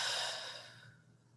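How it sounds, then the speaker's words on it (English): One long, slow breath is blown out through the mouth, close and soft, fading gradually into quiet. "we're going to blow that breath out"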